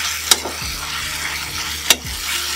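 Elephant apple pickle with jaggery is stirred in a hot pan, with a low steady sizzle and two sharp scraping strokes of a spoon against the vessel.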